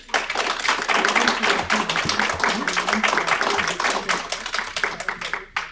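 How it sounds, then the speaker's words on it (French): Audience applause at a recorded French-language television show, dense clapping from a crowd filling the whole stretch fairly loudly, tapering at the end. "On les applaudit?"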